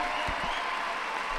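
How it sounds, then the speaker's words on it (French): Thunderous applause from the crowd at Palais Coubertin for a fighter after a bout, a dense, steady wash of clapping filling the hall without a break. "vous fassiez un tonnerre d'applaudissements pour Chloé Nandy"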